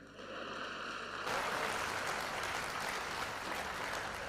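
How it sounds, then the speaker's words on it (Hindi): Loud, sustained audience applause at a Hindi poetry and speech event, with a dense wash of clapping swelling after the first second and continuing steadily to the end. "तालियां अब बजाएंगे"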